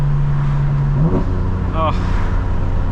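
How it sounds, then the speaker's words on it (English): A 2025 BMW M4 Competition sounds a quick upshift, its steady engine tone dropping abruptly with a brief intake whoosh before the drone picks back up, heard from inside the car with continuous road noise. "Got the intake noise there as well on the upshift."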